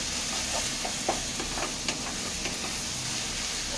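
Spiced masala sizzles steadily in a pan for a chicken and potato curry, a continuous close hiss with light scraping stir taps scattered throughout.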